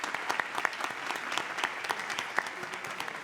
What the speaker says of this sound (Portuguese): Uma salva de palmas, então, doutor Roque.